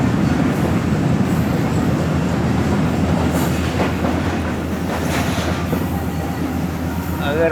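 Pak Business Express train rolling on rails toward Hyderabad Junction, heard from inside: a loud continuous rumble with rhythmic clickety-clack of wheels over joints and faint wheel squeal, steady throughout.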